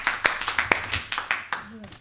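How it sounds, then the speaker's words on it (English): Scattered clapping from a small audience at a town school board candidates forum, a few uneven claps close by with a voice talking over them. "They clapped for the town council."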